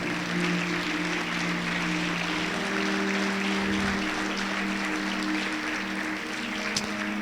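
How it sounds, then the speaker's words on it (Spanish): Congregation at Puerta del Cielo church applauding during an afternoon service, a steady, moderately loud wash of clapping sustained throughout over a low held organ or keyboard tone. "Le damos un aplauso al Señor en esta tarde."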